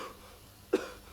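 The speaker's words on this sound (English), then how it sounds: "the brain will interpret it and will send a cough reflex. So you begin to cough" A person gives a single short dry cough, a brief sharp burst near the end against quiet background.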